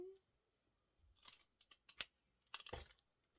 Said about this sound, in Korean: 이제 가위로 잘라줄게요.